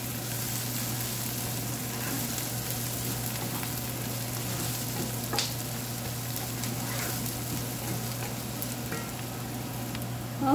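Curry leaves sizzle in hot oil with squid tentacles in a pan, a steady dense frying hiss with occasional pops and crackles, heard up close with no one talking.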